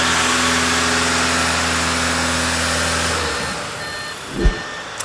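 Audi car engine with a 0AW CVT automatic gearbox, held at about 2,000 RPM during a transmission oil change, making a steady, loud, close hum that eases off toward the end, followed by a brief thump.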